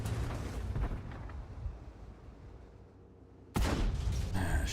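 A tank explodes in flames in a video game: a loud, rumbling blast that slowly fades into a low roar, then a second sharp, heavy burst near the end.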